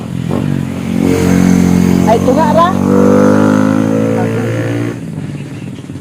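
Motorcycle engine running loud and close, with a rising rev in the middle before it settles back to a steady idle; a voice speaks briefly over it.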